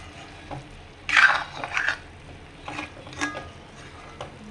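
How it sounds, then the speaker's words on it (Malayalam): Chicken being stirred in a pan for a sweet potato pepper chicken roast, with a few scraping bursts of a spoon against the pan over faint sizzling, fairly quiet and close. "ചിക്കൻ നമ്മൾ ഒന്ന് ഇളക്കി കൊടുക്കാം"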